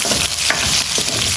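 Beef fat hits a hot frying pan and sizzles loudly and continuously, a dense close crackle with small bursts of spitting throughout.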